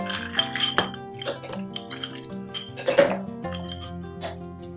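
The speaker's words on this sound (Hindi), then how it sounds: "फिर इसके अंदर हम ऐड कर देंगे आइस क्यूब" Ice cubes clink into a glass of blackberry drink, with several sharp, bright knocks and rattles close up, the loudest cluster near the end and a faint background hum under it.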